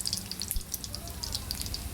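Medu vada frying in hot oil gives a steady close sizzle with scattered sharp pops and crackles spitting throughout, with no one speaking over it.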